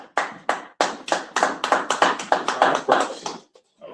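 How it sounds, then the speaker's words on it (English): Hands clap in a steady rhythm at a Sabbath service, roughly a dozen sharp, close claps that speed up slightly and then stop, with no talking. "Go ahead, clap it up."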